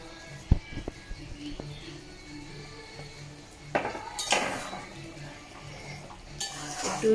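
A spoon stirs paneer butter masala in a pan, giving scattered metallic clinks and taps, then louder scraping bursts against the pan toward the end, fairly quiet and close.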